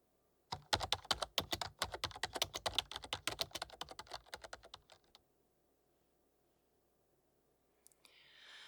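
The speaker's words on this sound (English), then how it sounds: "You've been typing like crazy over there." Rapid, crisp typing on a computer keyboard clatters close up in a quiet room for several seconds, then stops, leaving near silence before a faint rustle at the end.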